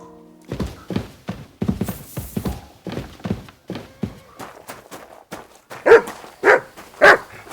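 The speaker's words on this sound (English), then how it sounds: "You silly doggy." A dog barks repeatedly in the medieval role-playing game Kingdom Come: Deliverance 2, a steady run of sharp barks with hoof-like clopping and footsteps mixed in, growing louder toward the end.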